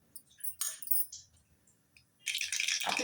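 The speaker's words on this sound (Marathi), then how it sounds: "आपली मोहरी तडतडली." Mustard seeds splutter in hot oil in a kadhai for tempering: a few scattered sharp pops at first, then a dense burst of crackling near the end, close and fairly quiet.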